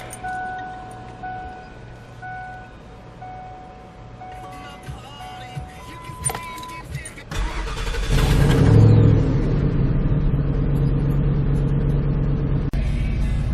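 A Ford F-150 with the 5.4L 2-valve V8, recently given a new ignition coil after a cylinder 7 misfire under load, idles in gear with a faint whine, then revs up into a loud, sustained engine roar.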